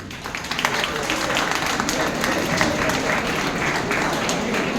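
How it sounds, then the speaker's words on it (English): An audience in a keynote session for MBBS students claps for a student volunteer, steady dense applause filling the room at moderate loudness and holding evenly throughout. "Shall we clap for her?"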